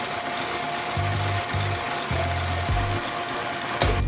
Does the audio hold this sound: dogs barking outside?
no